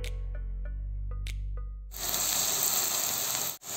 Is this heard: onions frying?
yes